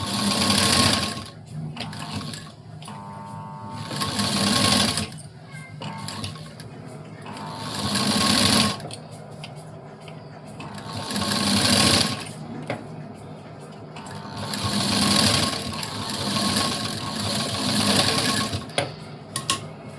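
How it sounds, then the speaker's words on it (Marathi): A sewing machine stitches cord piping to fabric with a half-inch seam margin, running in repeated whirring bursts with short pauses between them while a person talks. "आता इथं अर्धा इंच शिलाई मार्जिन सोडून आपण इथं ही जोडून घ्यायची."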